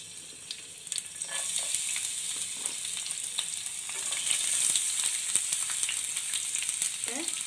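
Chopped garlic sizzles steadily in a hot pan of oil while cooking Chinese-style sauce chicken, a constant bright frying hiss with small crackles and no voices.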